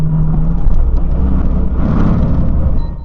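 A Nissan 350Z with an intermittent fault under load, its engine running steadily at close range, a constant low rumble and whir with a slight rise in revs partway through and no voices.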